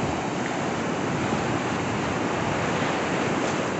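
Heavy ocean surf breaks on Itamambuca beach in Ubatuba, Brazil. The constant, loud roar of crashing waves carries wind noise and no voices.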